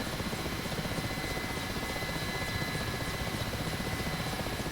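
Mi-8 helicopter in DCS World flying and slowing down, its steady rotor and turbine drone filling the scene as a continuous, even roar with no talk over it.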